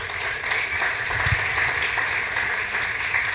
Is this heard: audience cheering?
yes